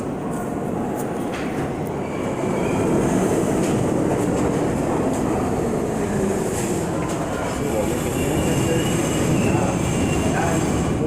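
Train running on rails, with a steady loud rumble and rolling clatter that holds for the whole stretch, with faint squeal-like streaks above it and no talk.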